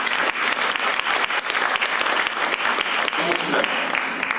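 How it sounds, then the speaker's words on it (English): Audience applause for a volunteer at a science festival talk, dense steady clapping filling the hall throughout, loud and close. "A round of applause."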